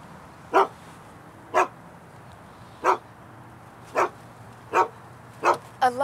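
A dog barks at a house, seven single barks spaced about a second apart, moderately close, with steady low background hum and no talk.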